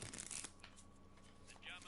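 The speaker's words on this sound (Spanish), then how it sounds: "Vamos a barajar otro poco." Tarot cards riffle and slide as a deck is shuffled in a game, a quiet, close burst of papery flutters followed by softer shifting, with no one speaking.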